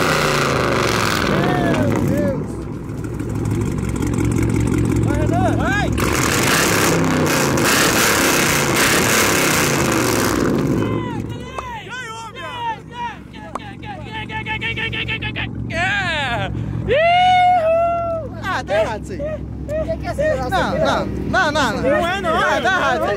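A Porsche or Camaro engine revs loudly through its exhaust for several seconds, then drops back as people talk nearby over the rumbling idle.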